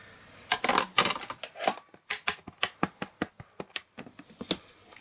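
A rubber seashell stamp is pressed repeatedly onto an ink pad, giving a close, crisp series of light taps in a quick, fairly even rhythm.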